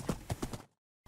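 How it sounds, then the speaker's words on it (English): Horse hooves clip-clop in a quick run of four close, fairly loud beats while a horse is ridden in Minecraft, followed by a short silence. "So let's ride the horse and kill."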